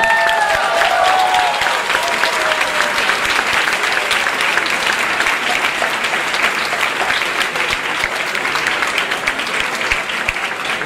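A crowd at a salsa festival breaks into loud, sustained applause for the dancers, thick continuous clapping with crowd noise that runs unbroken for about ten seconds.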